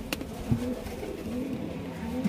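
A sick pigeon cooing softly, low repeated coos close by at an even pace, with no talk over them.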